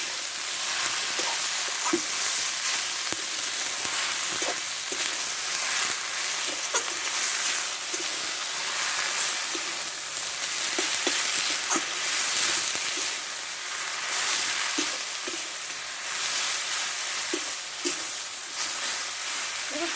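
Chopped taro leaves sautéing in a hot pan give a steady, close sizzle, with scattered clicks and scrapes as the greens are stirred; no one talks.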